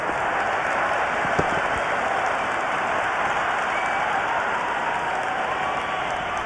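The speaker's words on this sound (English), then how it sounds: "It is the most enthusiastic crowd you could ever see right now." A stadium crowd in a cricket video game roars and applauds in a dense, steady wash of cheering and clapping that holds at a constant level.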